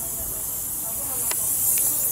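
A steady hiss of aerosol spray runs throughout, with faint voices and a couple of brief higher squeaks over it.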